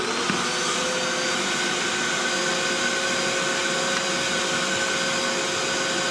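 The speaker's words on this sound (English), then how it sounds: "put my vacuum cleaner on top of the tank" Shop vacuum cleaner pulling vacuum on a bulldozer fuel tank, a steady loud whining roar that runs unbroken throughout with no talk.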